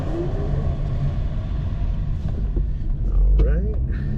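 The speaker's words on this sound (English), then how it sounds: "Got 2 garbage trucks here." Two garbage trucks on a residential street give off a steady, close engine rumble with low droning and a brief swell near the end, under an ongoing voice.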